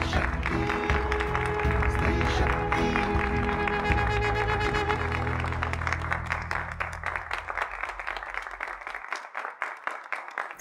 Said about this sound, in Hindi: जोरदार तालियों के साथ स्वागत करते हैं शिव